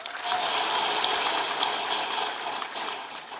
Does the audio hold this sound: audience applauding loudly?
yes